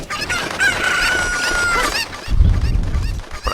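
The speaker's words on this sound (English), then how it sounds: "I hate gathering up these Cuckoos." Cuckoo chickens in the video game Ocarina of Time cluck and squawk loudly and close, with a sustained crowing call, then a burst of flapping or scuffling.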